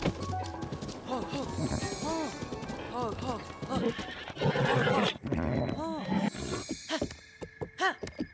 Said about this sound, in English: The horse, it's huge.